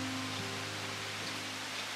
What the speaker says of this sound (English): If it would just stop raining for a few hours,